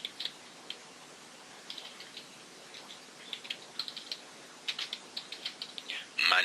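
Quiet, irregular clicks of a computer keyboard being typed on in short bursts, close but soft, with a louder clatter of keys at the end.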